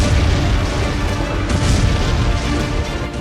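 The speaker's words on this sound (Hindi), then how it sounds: "आसमान से ताबड़तोड़ अंदाज में ड्रोन स्ट्राइक" Heavy, rumbling blasts from drone strikes on Kyiv roll through loud and continuous, a deep booming wash with no voices heard.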